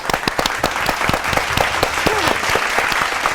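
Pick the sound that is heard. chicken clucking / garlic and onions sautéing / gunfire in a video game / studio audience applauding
studio audience applauding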